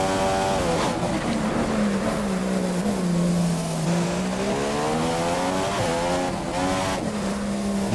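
Formula One car in the F1 2015 racing game at the Australian round, with worn tyres. A continuous close engine whine rises and falls in pitch through gear and speed changes, with tyre scrub underneath and no talk.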